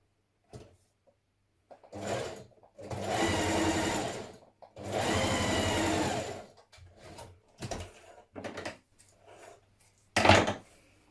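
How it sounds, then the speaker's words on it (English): A home sewing machine runs a long straight gathering stitch along a top's yoke edge between the notches, sounding in two steady, sustained runs with a few short stops and starts around them, close and moderately loud. "set your machine to a large straight stitch, stitch between the two notches"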